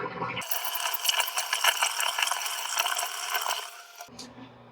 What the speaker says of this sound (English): Let's let this water out.